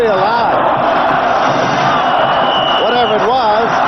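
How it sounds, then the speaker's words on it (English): A packed stadium crowd at the Cotton Bowl college football game between Alabama and Texas roars and cheers in a loud, sustained wave, with rising whoops swelling near the end. "This crowd is really alive."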